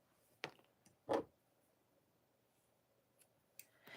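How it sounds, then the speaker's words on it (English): Scissors snip off the two loose ends of a knotted cord on a beaded phone grip wristlet, giving two quick, close, quiet cuts followed by a few faint clicks in an otherwise quiet room. "We are going to cut off those two ends of our knots."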